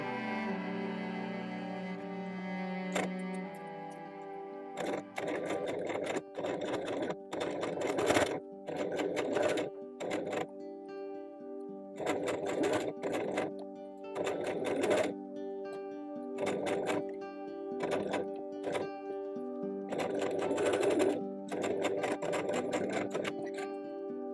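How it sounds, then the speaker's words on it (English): A sewing machine stitches a small doll blouse in short bursts of fast mechanical whirring, separated by brief pauses, close and fairly quiet. "I machine stitch this and repeat for the other side."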